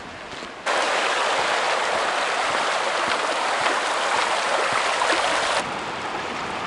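Spring water bubbles out of the ground in the Yorkshire Dales, a constant rushing, bubbling gush, loud and close, beginning abruptly and easing slightly near the end.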